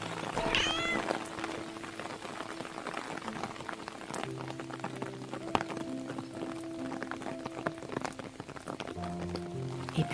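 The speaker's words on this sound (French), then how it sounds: "Hé, petit chat d'amour, viens donc te mettre à l'abri avec moi." A cat gives a short meow early on while rain patters steadily on surfaces all around, with scattered drips and faint distant hums throughout.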